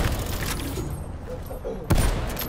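Gunfire in a shooter video game, a rattle of shots capped by a single loud, sharp blast near the end, with faint voices underneath.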